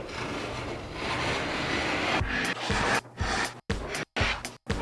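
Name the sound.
sanding trim with 150 grit sandpaper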